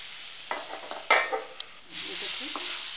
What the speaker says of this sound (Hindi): थोड़ी देर और पकाएंगे शक्कर भूनने तक